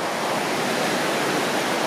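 A mountain river at Rock Creek pours in a dense, constant rush, loud and close, with no other sounds over the steady wash.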